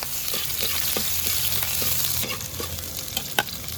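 Garlic and onion sizzle steadily while being sautéed in a pan for a beef and chayote stir-fry, with occasional scrapes and clicks of a spatula stirring close by and no talking.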